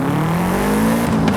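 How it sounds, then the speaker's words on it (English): An all-wheel-drive car in Forza Horizon 5 revving at launch, a loud, close, sustained engine drone rising slowly in pitch as the revs build. "Build up the revs, build up the revs."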